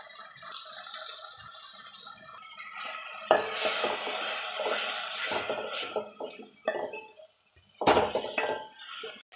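Chilli powder is stirred into a sizzling Nellore-style dry fish curry in a pan, with scraping, rattling stirs over a soft sizzle and a couple of sharper knocks of the spoon.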